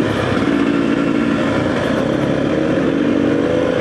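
A motorcycle engine labors uphill on a rough trail at Pinatubo, a loud, steady, close droning roar with constant rumbling texture throughout and no audible talk.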